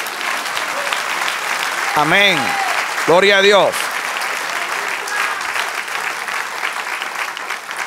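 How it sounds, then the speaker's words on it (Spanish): Applause from a church congregation after a call to praise the Lord, a steady broad clapping wash running throughout, with a preacher's voice rising over it twice. "Den un aplauso al Señor."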